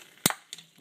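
Cutters snip through a cotter pin on a Volkswagen rear brake drum, giving one sharp metallic snap and then a softer second click, close up and brief.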